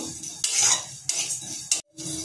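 A spoon stirs panch phoron and coriander seeds dry-frying in a pan, giving a few short bursts of scraping and clinking against the metal, loud and close, with brief pauses between strokes.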